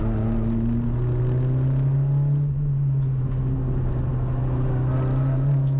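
Renault Clio race car engine droning steadily at high revs on the Anglesey circuit during a trackday championship round, a loud sustained in-car note with no talk.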